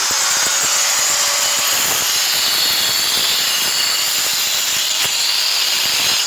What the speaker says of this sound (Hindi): आपको हम बताते हैं किस तरीके से ग्राइंडर से झरी निकालते हैं।